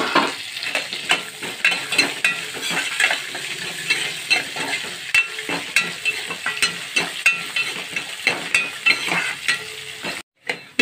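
Cashews, dried chillies and curry leaves roasting in a pan give a continuous dry sizzle, broken by frequent scraping stirs and light clinks of a spoon, close and alone with no talk.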